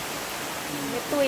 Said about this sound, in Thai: ฝนตกค่ะไปตอนนี้ก็รอฝนหยุดก่อน